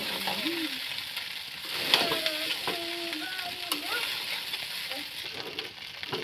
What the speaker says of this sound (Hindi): अब भात को चला रही है।